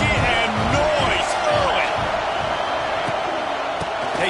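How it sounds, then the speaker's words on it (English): Loud, continuous stadium crowd roar fills a college football video game, with a commentator's voice running over the steady din. "This crowd bringing the energy and noise early."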